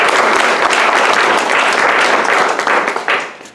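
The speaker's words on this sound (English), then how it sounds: "One more round of applause for all the shows we've seen tonight" Steady applause from a theatre audience at an evening of original one-act plays, dense clapping filling the room throughout before thinning slightly at the end.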